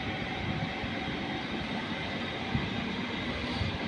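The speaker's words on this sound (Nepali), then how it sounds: "एउटा लामो दूरीको अनि धेरै बक्स भएको रेल" Long-distance passenger train with many carriages rolling through Sankt Pölten station in Austria, a steady, continuous rumble of wheels on rail, moderately loud and unbroken, with no voices.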